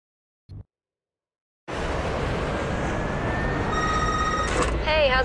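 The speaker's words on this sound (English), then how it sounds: "what you're hearing is the car's short message system" A car's short message system alert in the Need For Speed Underground 2 video game: a brief click, then silence, then a steady engine drone with a short electronic ringing chime near the end.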